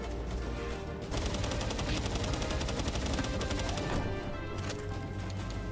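Gunfire in the video game Palworld on an official server, rendered as rapid, dense bursts of shots that continue steadily for several seconds, with brief gaps between volleys.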